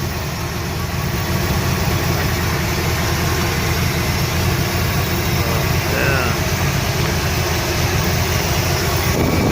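A steady low engine idle from a 1976 Chevy Nova with a carbureted 355 small-block V8 rumbles continuously around 600 rpm, close by, with a faint voice briefly audible near the middle.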